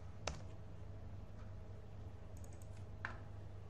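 Quiet, sparse key clicks on a computer keyboard while code is entered for an Android calculator app, a few distinct taps spaced over low background hum, faint and close.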